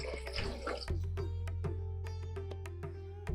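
A tumbler of water is poured into a pot of hotel-style tiffin sambar with tamarind water, making a short splashing gush followed by faint dripping over a steady low hum.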